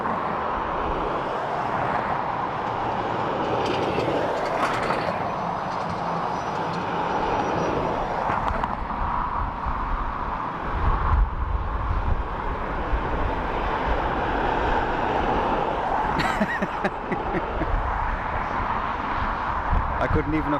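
An ATR turboprop airliner at Dublin Airport gives a steady, fairly distant engine drone that lasts the whole stretch, with wind buffeting the microphone and people talking over it.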